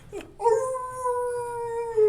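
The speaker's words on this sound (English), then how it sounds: "Oh, the dogs are howling at the sirens." Dogs howl in response to passing sirens, a sustained wavering, tonal howl rising after a short yelp and holding steady to the end, fairly close and clear.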